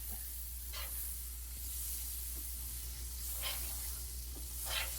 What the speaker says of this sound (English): I'm going to put a dab of butter down, melt it.